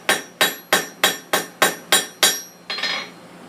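Hot iron being hammered to taper a troll cross at the forge, eight sharp ringing blows in an even rhythm, loud and close, followed by a softer final scraping strike.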